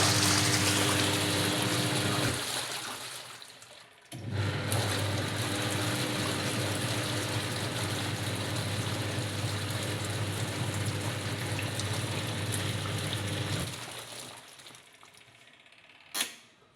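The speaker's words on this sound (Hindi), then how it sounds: "थोड़ा सा मशीन को चला देना है ताकि सर्फ इसमें मिक्स हो जाए" A washing machine churns detergent powder into water with a steady mechanical whirring and sloshing, broken by a brief stop near the start, then running evenly before winding down with a final click.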